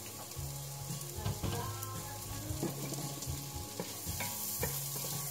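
Onions and garlic in melted butter in a pot over low heat, giving a steady soft sizzle close by, with occasional utensil scrapes and stirring over the constant crackle.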